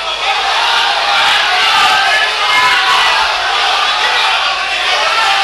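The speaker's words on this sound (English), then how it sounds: "The crowd here getting very overexcited" A crowd at a boxing event roars loudly and continuously, with cheering and shouting blended into a dense, steady wall of noise and no break.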